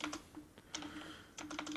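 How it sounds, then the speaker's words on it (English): Keys clatter on a computer keyboard in quick bursts of close, crisp clicks separated by short pauses, with no voices over them. "I'm just gonna start typing"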